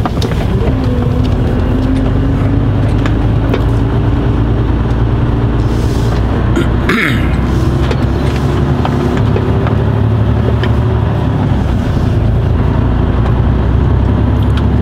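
A car drives slowly forward through a turning loop, its engine and road noise loud, close and continuous for about fifteen seconds, with a brief swelling whoosh midway.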